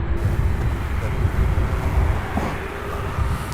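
Jet aircraft taking off at Louisville International Airport beside the UPS Worldport, heard as a steady, broad, rumbling roar that holds at an even level throughout.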